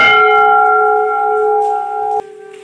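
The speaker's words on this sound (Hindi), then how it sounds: "और इतनी बड़ी घंटी।" A large temple bell at the Sem Mukhem Nagraja temple in Uttarakhand rings once with a loud, close metallic clang, its tone decaying slowly before a second sharp strike near the end.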